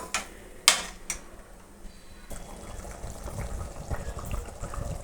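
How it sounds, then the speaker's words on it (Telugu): Water poured into a simmering sour chema dumpala (taro) curry, a few sharp clinks at first, then a continuous liquid pour and bubbling that grows slightly louder, close by. "పులుపు కొంచెం ఎక్కువైంది, నేను వాటర్ వేసుకుంటున్నాను."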